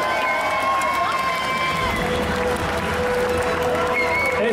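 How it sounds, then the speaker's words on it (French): An audience at the Saturday cosplay contest of Festival Yggdrasil Indoor 2020 applauds to welcome a Mandalorian cosplayer in a handmade PVC and fabric costume, a steady, loud wash of clapping with sustained tones and voices underneath. "Je vais vous demander d'accueillir et d'applaudir"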